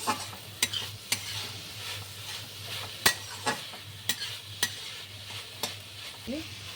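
Water spinach greens sizzle in a pan as they are stirred, a steady close hiss broken by sharp spatula scrapes and taps roughly every half second to second.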